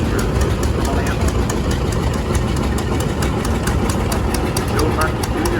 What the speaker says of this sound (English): Joe Parsons Jr. also owns this 1952 John Deere Model R.